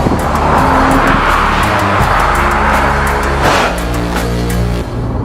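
Honda NSX with a five-speed manual gearbox accelerating hard at speed, a loud, close, continuous engine roar climbing through the revs, with a shift-like dip partway through.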